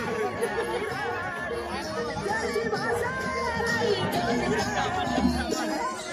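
Dense crowd chatter fills a busy village fair (yatra) in Surgana, with many overlapping voices and occasional children's shouts, steady and close throughout.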